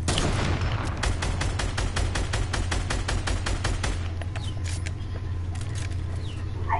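Rapid pistol shots ring out in a Fortnite match, a steady run of sharp, evenly spaced reports for about three seconds, then scattered distant shots and game ambience.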